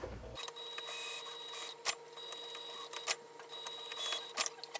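A sewing machine runs a 3/8 inch seam, a steady mechanical whir broken by a few sharp clicks and brief pauses, close and fairly quiet.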